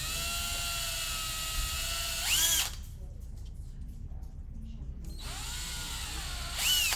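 A power drill bores into a bonsai trunk for a peg graft, its whine running steadily with a pause in the middle before starting up again, close and loud.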